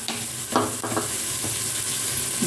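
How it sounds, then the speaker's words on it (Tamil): Beans and carrots sizzle and crackle steadily in a hot pan, with a few louder bursts as they are stirred. "பீன்ஸு, கேரட்டு, இது எல்லாம் நல்லா வதங்கட்டும்."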